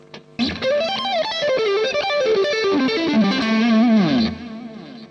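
An electric guitar plays a flowing pentatonic line through heavy distortion and chorus effects, notes bending and sliding before a sustained final tone.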